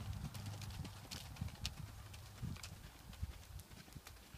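A horse canters during a riding lesson, rhythmic muffled hoofbeats thudding in a steady repeating pattern, faint and somewhat distant over low background noise.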